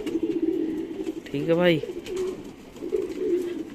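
Pigeons coo with one clear, rising and falling call near the middle, while someone talks in Hindi throughout at a close, moderate level.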